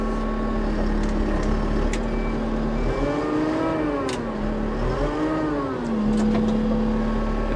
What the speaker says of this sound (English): Another little bit of revs.